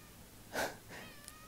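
A toy cat gives a single short meow, faint but clear, followed by a softer second mew and a tiny chirp in a quiet room.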